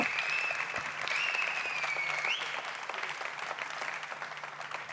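A crowd applauds steadily throughout, with a thin high whistle sliding through the clapping early on.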